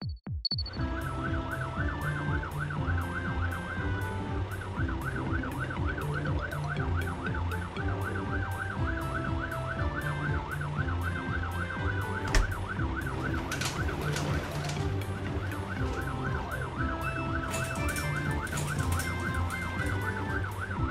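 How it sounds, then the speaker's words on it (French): A fire truck in a children's cartoon sounds its siren in a steady wailing two-tone pattern, loud and continuous, layered over cheerful background music with some brief clattering accents. "Et voilà le camion de pompiers."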